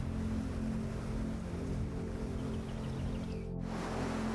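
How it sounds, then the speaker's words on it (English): Waves break hard against Curtis Island, a small wooded outcrop at the mouth of Camden Harbor, Maine, making a steady, dense roar of surf with deep rumble and wind noise throughout. "Waves break hard against Curtis Island, a small wooded outcrop guarding the mouth of Camden Harbor."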